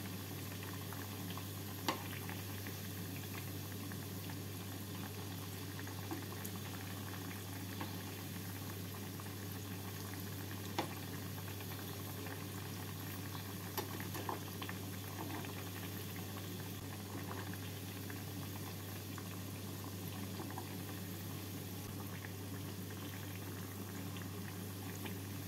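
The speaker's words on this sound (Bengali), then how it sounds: "এবার গ্যাসটাকে লো ফ্লেমে রেখে সুজির এই বড়াগুলোকে ভেজে নিচ্ছি।" Semolina fritters deep-fry in ghee and oil over a low flame, giving a faint, even bubbling sizzle with occasional small pops over a steady low hum, and no voices.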